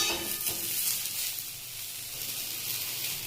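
Pointed gourd (potol) pieces frying in a pan over a medium flame, a steady close hiss and sizzle that holds without a break and without any voices.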